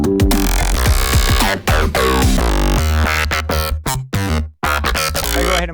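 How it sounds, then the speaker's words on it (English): A wonky, glitchy synth bass track, loud and dense, with stuttering cuts, sudden dropouts and pitch swoops chopping through a thick electronic mix, no talking. "So here I've got this bass sound."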